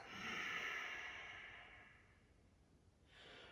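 A long, steady exhale during a yoga class, close and breathy, fading out over a couple of seconds before a short fresh breath begins at the end.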